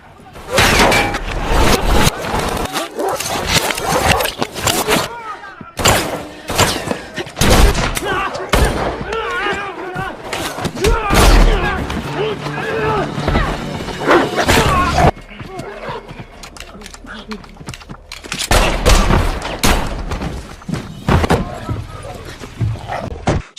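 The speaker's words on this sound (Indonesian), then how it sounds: "Dari situ mereka berdua pun terlibat baku tembak dengan anak buah si pria" Dense bursts of gunfire crack through a shootout scene from the action film John Wick 3, rapid volleys and single shots mixed with dogs barking and shattering, with a voice talking over much of it.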